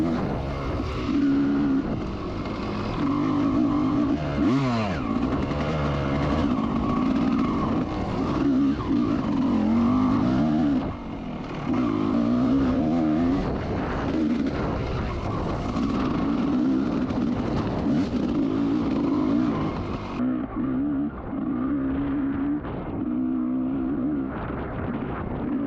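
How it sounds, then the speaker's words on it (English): A racing motorcycle at an AHRMA vintage race meeting in Frackville roars past, its engine note rising and falling in pitch as it approaches and goes by, with a steady loud engine drone throughout and no talk. "Coming up on the bike 706 is Ken Wagner."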